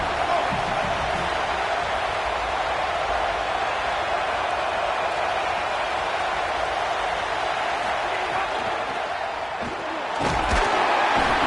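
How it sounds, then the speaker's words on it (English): A packed stadium crowd in the College Football 27 video game roars in a continuous, dense wall of noise, with a brief sharp thud near the end. "This crowd ready to make its presence known."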